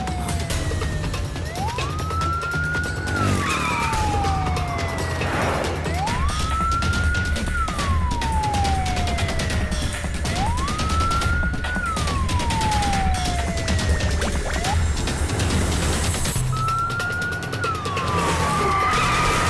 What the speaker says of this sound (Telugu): అంబులెన్స్ అడ్డగించండి.